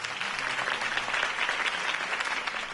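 Crowd applause follows a campaign speech in Batman: The Telltale Series, with dense, steady clapping from many hands filling the short stretch at a moderate, even level.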